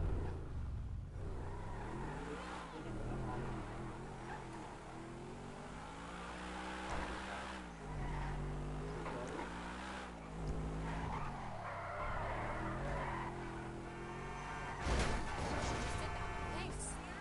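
A supercar in a video game revs and shifts through rising engine tones, with tyre squeals and skids, while a voice talks over parts of it.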